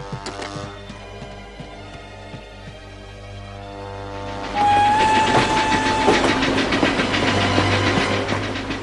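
A cartoon train runs on rails during a chase, with loud, steady clattering wheels throughout and a sustained whistle tone sounding midway over the rumble.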